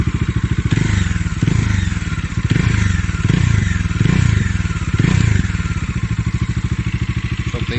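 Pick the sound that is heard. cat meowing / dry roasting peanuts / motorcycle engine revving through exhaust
motorcycle engine revving through exhaust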